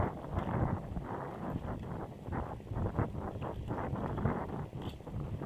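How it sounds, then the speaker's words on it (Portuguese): Steady wind blows and buffets the microphone in gusty rumbling bursts, with faint rustling throughout. "Tá ventando um pouco, não sei se o vento tá atrapalhando"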